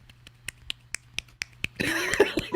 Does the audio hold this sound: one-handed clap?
yes